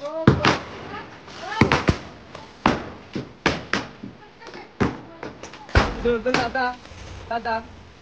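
Small firecrackers set off at a Bhaubeej family gathering pop in a rapid series of about a dozen sharp, close bangs, with voices talking in between.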